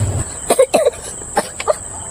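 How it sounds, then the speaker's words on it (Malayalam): A person coughs several times in short bursts, close by, between quiet pauses, with a brief low rumble at the start. "എനിക്ക് ചുമയാണ്ട്"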